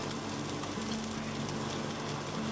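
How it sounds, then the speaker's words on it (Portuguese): Steady, even sizzling of tofu frying in a hot pan, a continuous crackling hiss with no talking. "Vamos fritando aqui o tofu."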